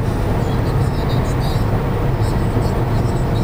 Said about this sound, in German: jetzt beschleunigt der Mustang wieder von sage und schreibe 100 km/h auf 120 in 30 Sekunden